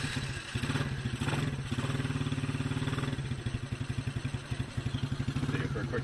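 A new ATV engine sputters to life and settles into a rapid, steady putter close by, its regular pulsing beat continuing throughout while people talk over it.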